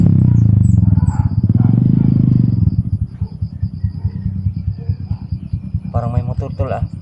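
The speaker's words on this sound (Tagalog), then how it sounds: "Parang may motor, tol, ah." A loud motorcycle engine rumbles up close, then settles into a steady, throbbing idle. Someone speaks briefly near the end.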